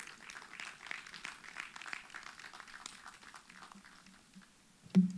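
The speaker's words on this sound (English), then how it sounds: "Ladies and gentlemen, a round of applause as I welcome Mr. Dapo Adeniyi" A conference audience at a panel event applauds to welcome the moderator, with scattered, moderately faint clapping that thins out over several seconds before a sudden close thump near the end.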